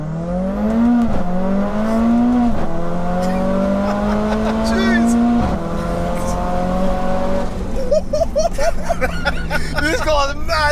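A 630bhp big-turbo Mercedes A45 AMG with a screamer pipe pulls away from first gear and accelerates hard, engine note rising through gears with shift breaks, heard from inside the car with people talking over it.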